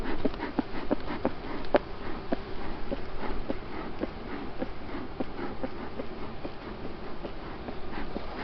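Honey bees hum at an opened hive on a calm sunny day, a steady low drone under scattered clicks and soft handling taps from frames being worked, close and fairly quiet throughout.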